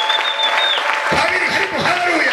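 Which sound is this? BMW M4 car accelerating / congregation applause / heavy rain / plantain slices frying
congregation applause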